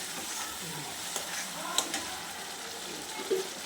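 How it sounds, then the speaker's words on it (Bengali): Chopped tomato is stirred and fried in a wok, producing a soft, steady sizzle with occasional light scraping and clinking from the stirring spoon, quiet and close with no talking. "সাথে টমেটো কুচাটা দিয়ে দিলাম। এটাকে ভালো করে কষিয়ে কড়াইতে ধরবে না"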